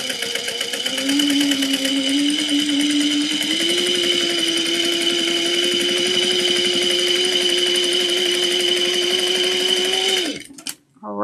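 A domestic sewing machine runs steadily for about ten seconds, back-stitching and then sewing on while stitching a zippy bag, its even motor whir and needle chatter loud and close before stopping abruptly with a final clunk.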